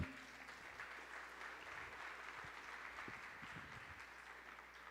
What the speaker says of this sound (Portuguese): um aplauso para o Gustavo e para a equipe.